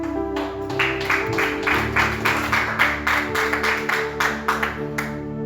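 A church congregation claps along in praise, a steady rhythmic beat of many hands heard under sustained music, fairly loud and even throughout.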